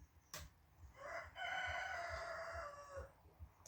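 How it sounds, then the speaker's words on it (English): Two cockerels crowing back and forth outdoors, one long drawn-out crow dominating at moderate distance, with a quieter rhythmic background of clucking and farmyard noise. "A bit of a contest now between my cockerel and the neighbour's cockerel as to who can shout the loudest."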